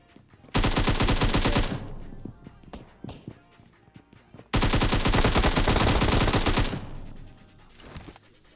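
Automatic weapon fire in the mobile battle royale game PUBG Mobile, two long sustained bursts of rapid shots, loud and close, separated by scattered single cracks and footstep-like ticks.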